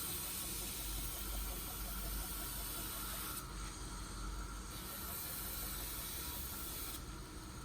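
A grinder sands the top of a steel knife tang to remove coarse 50-grit scratches, producing a steady, loud, broadband abrasive hiss with a low motor hum that runs unbroken throughout, with no talk.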